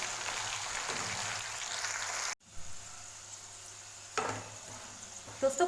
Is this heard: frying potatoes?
yes